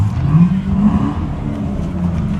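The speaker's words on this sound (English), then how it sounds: "the sounds coming from those engines" Parade car engines rev loudly and continuously at close range, a steady low rumble with surges in throttle throughout.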